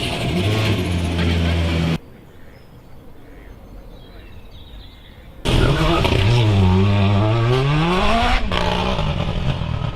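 Loud engine of the World Rallycross Mini race car, built on the Countryman with over 600 brake horsepower, roaring near at a rallycross event, dropping away for a quieter spell, then returning with a rising and falling rev sweep.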